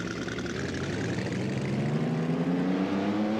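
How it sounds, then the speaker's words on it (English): A fan-made car's custom engine sound in a racing video game, a steady loud droning hum with a slowly rising pitch as the revs climb, continuous and alone without talk. "Custom engine sound is underrated. It does sound pretty good."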